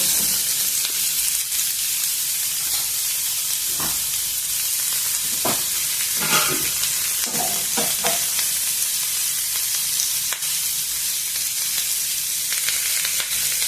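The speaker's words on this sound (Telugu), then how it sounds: "పుచ్చకాయ ముక్కల్ని కూడా వేసి వేయించుకున్నాము వంకాయ ముక్కల్ని కూడా వేసి వేయించుకున్నాము" Watermelon and brinjal pieces fry in a pan over a low flame, with a loud, continuous sizzle broken by scraping stirring strokes every second or so.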